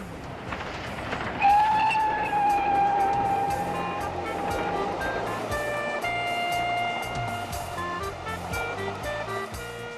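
A steam locomotive train rumbles along steadily while a long whistle sounds, its tones holding for several seconds over the continuous rolling noise.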